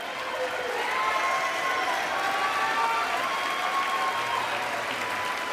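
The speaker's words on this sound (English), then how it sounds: "They're all smiling, clapping." A large audience at a State of the Union speech gives sustained applause, with dense clapping that fills the room steadily from start to finish.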